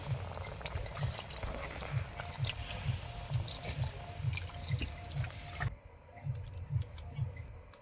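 A little water goes into frying spice paste for a Bengali fish roe curry. It makes a bubbling, dripping sizzle with repeated soft stirring scrapes close by, then a brief quieter moment before the bubbling resumes.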